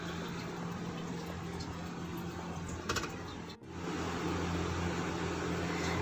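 Spice masala with salt, ground coriander and a little water sizzles steadily in a pan as bhindi masala is cooked, a constant close hiss with a brief clatter midway.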